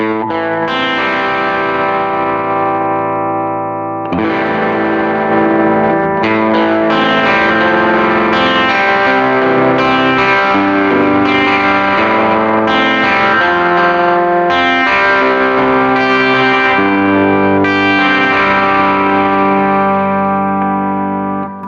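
Electric guitar through a NUX Mighty Plug amp modeller with flanger modulation, strumming sustained distorted chords with a sweeping, swirling shimmer, steady and loud throughout with a brief dip near the start.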